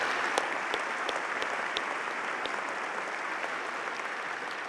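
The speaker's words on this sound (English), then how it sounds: "Everyone, please join me in applauding these tireless individuals" An audience at a fall graduation ceremony claps for the faculty, a steady wash of applause from a large crowd heard at a moderate distance, with a few sharper individual claps standing out.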